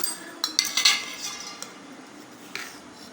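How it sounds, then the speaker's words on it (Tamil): A spoon scrapes and clinks against a bowl while wheat rava dosa batter with curry leaves, coriander and green chilli is stirred, with several bright taps early on and a few quieter strokes after. "இப்போ இது எல்லாத்தையும் சேர்த்து நம்ம மிக்ஸ் பண்ணி விட்டுக்கலாம்"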